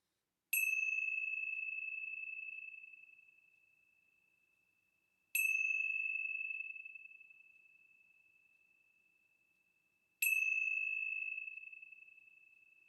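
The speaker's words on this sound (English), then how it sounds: "let's begin our time together with the ringing of the bells." Three struck bells open a quiet meditation session, each clear metallic tone ringing out and slowly fading before the next strike, about five seconds apart, with no voices over them.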